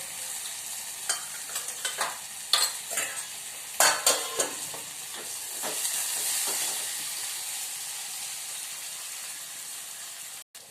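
Broad beans dropped into hot oil with turmeric in a home kitchen, stirred with sharp scraping clatters early on, then a steady hissing sizzle that carries on alone.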